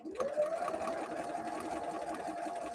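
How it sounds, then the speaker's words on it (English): A sewing machine runs steadily, stitching together strips of fabric for a quilt, its motor holding a continuous whirring hum for the whole stretch with no talk over it. "I'm just going to keep sewing on them until I run out of those strips"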